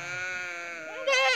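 A sheep bleats in a long, wavering, harmonic cry during sheep lassoing work on a farm, followed by a second, louder and shakier bleat close by.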